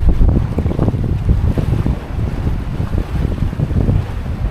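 Strong wind buffets the microphone in a steady low roar with gusty surges, loud and constant, and no one speaks.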